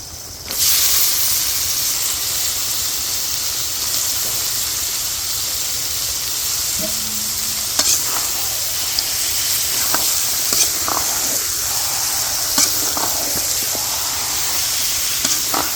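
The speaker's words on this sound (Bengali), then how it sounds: "আমাদের মশলা কষানো হয়ে গেছে, দিয়ে দেবো মাংস।" Chicken meat hits a pan of fried spices for Bangladeshi tehari and breaks into a loud, steady sizzle, a constant hiss with a few small pops and scrapes, close and without talk.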